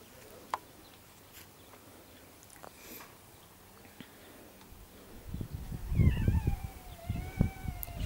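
A cat at a country dacha, with quiet rustling early on, then closer, louder growling and wailing caterwauls with rising meows near the end.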